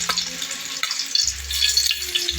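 Chili and onions fry in a pan with a steady, bright crackling sizzle, close and constant throughout, with a low hum joining partway through.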